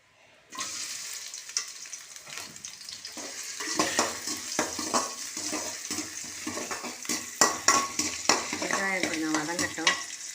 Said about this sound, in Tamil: எண்ணெய் காஞ்சோடனே முதல்ல வெங்காயம் பண்ண போட்டு